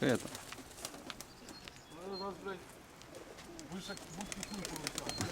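Pigeons coo softly in a coop that holds their squabs, low rounded calls repeating at a moderate distance under faint background noise and brief voices.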